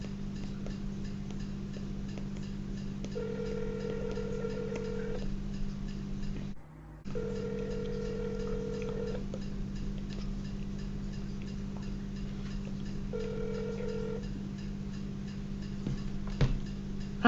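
A phone call rings while waiting for an answer, a steady repeating tone pattern with regular gaps, clear and fairly close, with no talking.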